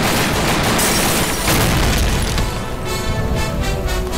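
Dense, loud gunfire from police officers in a dubbed South Indian action movie scene, a continuous roaring volley of shots and booms filling the whole moment.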